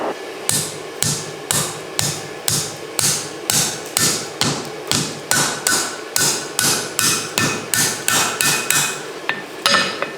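Steady hammer blows from a cross peen on an anvil edge, bending the nip of a pair of bolt tongs during forging; around twenty loud, evenly spaced ringing strikes, close and alone.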